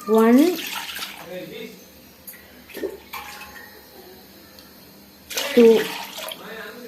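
Water is poured from a tumbler into a chicken biryani pot in two separate splashing pours, one at the start and one near the end, each rising in pitch as it fills. A voice counts between the pours.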